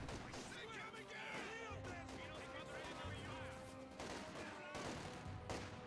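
Machine gun fire in Company of Heroes 2, a World War II strategy game, bursting at an infantry squad in open ground amid dense, continuous battle noise with other gunfire and crashes, while a commentator talks throughout.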